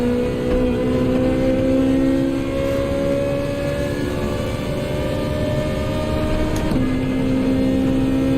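Ferrari 458 engine in a racing video game at Spa, held as a steady high-revving drone with sustained tonal harmonics. Pitch rises gradually, then drops abruptly near the end into a lower steady tone, as on a downshift.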